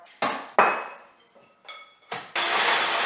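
An electric mixer beats butter and sugar in a bowl in bursts, whirring on and off with sharp starts and fading tails before running continuously at the end.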